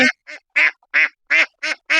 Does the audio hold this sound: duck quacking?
yes